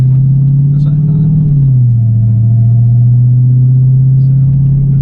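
Supercharged Dodge Challenger Hellcat engine producing a loud, steady low rumble with a slight pitch dip around two seconds, then holding a deep sustained drone from inside the car.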